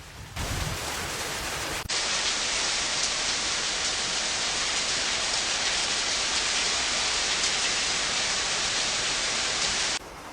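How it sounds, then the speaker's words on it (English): Heavy rain pours down steadily during the Sichuan floods, a dense, loud, unbroken hiss of drops on surfaces with no voices. "As the rain finally begins to ease"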